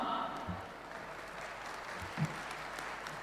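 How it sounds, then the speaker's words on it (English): Audience applause at a live research, innovation, design and entrepreneurship event, a steady dense wash of clapping sustained for a few seconds at moderate level with no talk over it. "Audience, may we have a round of applause for ma'am?"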